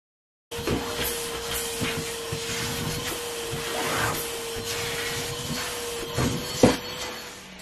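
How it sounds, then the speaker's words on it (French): A vacuum cleaner runs continuously while deep-cleaning a living room, a loud steady whooshing roar with a sustained whine, close by and alone, with small bumps as the head moves. "On va passer l'aspirateur en profondeur."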